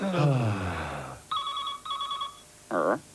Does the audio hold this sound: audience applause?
no